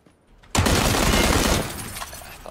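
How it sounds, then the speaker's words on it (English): Video game gunfire breaks out suddenly as a loud, dense burst of rapid shots lasting about a second, then fades into a rattling tail. "I'm just shooting."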